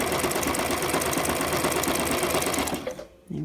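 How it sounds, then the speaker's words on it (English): A sewing machine runs steadily, stitching elastic onto fabric for a picot-edge finish; the close, continuous mechanical whir stops near the end, leaving a brief quiet moment. "Get my stitching close to the inner edge of the elastic just to hold it down."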